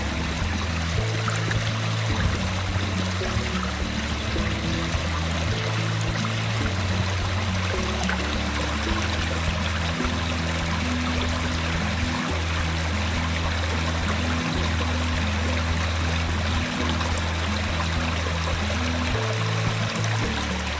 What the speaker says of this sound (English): filling up with water here at Stover Creek.